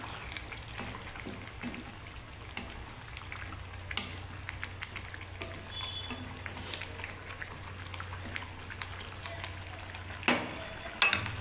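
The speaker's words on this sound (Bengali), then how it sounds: "এবার আমি কাঁচা কলার কোপ্তা কারিগুলোকে বন্ধুরা সব দিয়ে দিচ্ছি" Raw banana koftas dropped into simmering curry gravy, a soft steady bubbling and frying hiss with faint stirring clinks and a louder clatter near the end.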